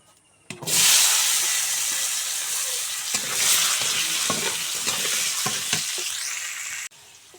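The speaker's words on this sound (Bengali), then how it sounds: "এই যে এখন হচ্ছে এই যে আলু আলু দিয়ে দেবো তেলের পর।" Potatoes frying in oil in a home kitchen, a loud hissing sizzle that bursts in abruptly, stays steady and close with a few stirring knocks, then cuts off near the end.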